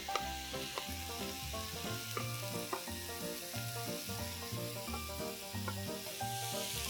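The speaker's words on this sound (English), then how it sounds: "Let's quickly add in all the other vegetables and let's just cook them for a minute." Mushrooms and other vegetables frying in a pan for wonton salad, a soft continuous sizzle beneath louder background music, with no voices.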